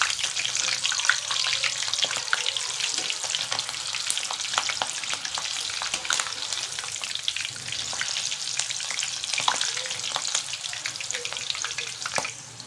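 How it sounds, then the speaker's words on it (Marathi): Green chillies deep frying in hot oil for corn fritters, a steady crackling sizzle with dense bubbling pops running throughout, close and alone with no voices. "मिरच्या छान तळलेल्या आहेत काढून घ्यायच्या"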